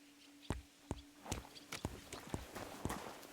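Horse hooves clop at a slow walk in Kingdom Come Deliverance 2, about a dozen distinct, fairly quiet hoofbeats over a soft background.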